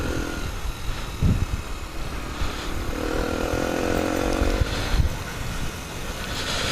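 Sinnis Apache 125 motorcycle fitted with a DEP exhaust and up jet, accelerating with a raucous buzzing engine note that swells and falls across several seconds, moderately close with no talk.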